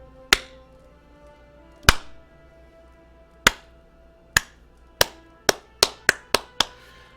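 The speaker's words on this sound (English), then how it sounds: "he begins the slow clap" A single pair of hands claps slowly and sharply in the video game Pillars of Eternity, about ten crisp claps spaced widely at first, then quickening toward the end, each with a short ringing echo.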